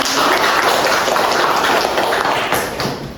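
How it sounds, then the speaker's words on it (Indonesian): Audience applause in a lecture hall: dense, steady clapping from a group that holds strong for about two and a half seconds, then fades out. "Kita beri aplaus ya untuk teman kita."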